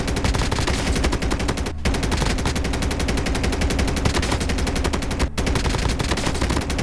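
Sustained automatic gunfire rattles without pause while aiming down sights in a mobile shooting game, rapid regular shots filling the whole stretch with only two brief gaps.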